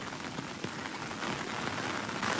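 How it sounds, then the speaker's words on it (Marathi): Heavy rain pouring steadily on a road through eucalyptus trees near Nilkantheshwar temple in Panshet, Pune, a dense constant hiss of drops with no break. "कारण की पाऊस पण खूप आहे"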